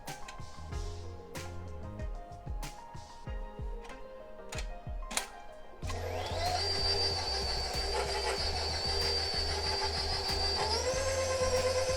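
An electric mixer beating preacher cake batter at medium speed starts up partway through, giving a steady whirring drone after some ticking and clattering at the bowl.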